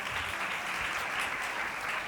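Steady, dense applause from a church congregation during a Sunday worship service fills the whole stretch, loud and continuous without pauses.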